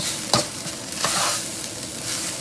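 Rice with onion and ginger sizzles and crackles in a hot pan while it is stir-fried, with a couple of scraping strokes of a utensil.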